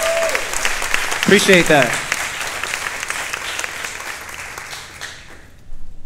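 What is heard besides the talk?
audience applause at a benefit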